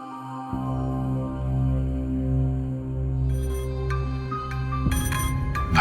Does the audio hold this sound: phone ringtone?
yes